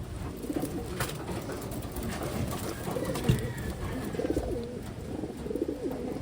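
Pigeons coo repeatedly in low, throaty rolling phrases, close by, over a busy background of rustling and faint chirps.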